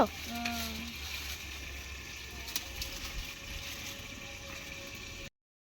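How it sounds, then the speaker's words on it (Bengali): A steady, even sizzle of potatoes and meat frying in a pan hisses on without pause, with a few faint clicks. "মাংসটা ভাজা হয়ে গেছে এবার আলুটা ভাজছি"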